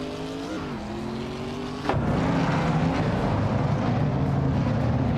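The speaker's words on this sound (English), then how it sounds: "the race kicks off at Circuit of the Americas, and leading the pack is the official Class Alive car, a 2016 Ginetta G55 GT3" A 2016 Ginetta G55 GT3 race car from a racing video game idles with a rising engine tone, then bursts into a loud, dense roar of engines as the race starts at Circuit of the Americas.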